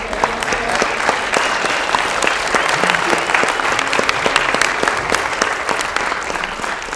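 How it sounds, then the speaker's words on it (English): Audience applauding candidates at the close of a student presidential debate, a sustained burst of many hands clapping, close and loud, with dense crackling claps that continue throughout. "our candidates deserve a round of applause"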